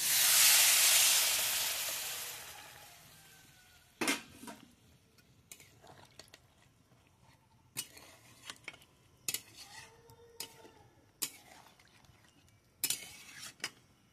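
Gravy poured into a curry in a hot pan sets off a loud burst of hissing steam that fades over about four seconds, followed by scattered clinks and scrapes of a spoon against the pan, near and without talk.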